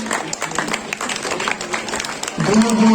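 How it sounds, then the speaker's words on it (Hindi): Audience applause at a mini volleyball championship prize ceremony in Delhi, a crowd clapping in a dense, moderately loud wash for a few seconds, joined near the end by an announcer on a microphone. "जोरदार तालियां"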